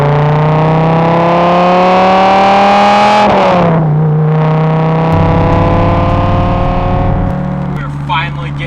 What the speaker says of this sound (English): Getting underway in our 2001 Dodge Viper GTS ACR